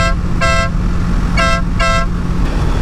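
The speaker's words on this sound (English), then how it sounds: "So I have gone and replaced it with the Denali Sound Bomb" A Denali Sound Bomb air horn fitted to a Kawasaki Ninja 650 motorcycle gives three loud, blaring blasts, one short and then two in quick succession, over a steady low rumble.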